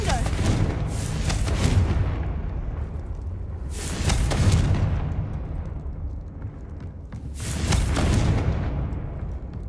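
Confringo blasting-curse explosions in the video game Hogwarts Legacy, three loud booming bursts with long rumbling tails spaced a few seconds apart, over a continuous low game background.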